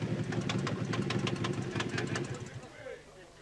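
Toyota rally car at the 1981 Rallye Bandama, its engine running with a rhythmic, uneven knocking pulse at moderate distance, fading toward the end.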